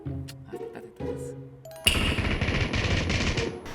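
A shooter video game erupts in sustained rapid gunfire and explosive noise that starts abruptly and stays loud to the end, preceded by quieter in-game tones and chimes.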